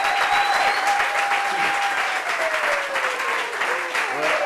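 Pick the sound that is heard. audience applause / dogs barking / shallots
audience applause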